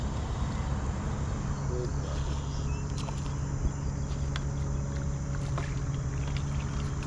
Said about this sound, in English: See, I still got the motor going too.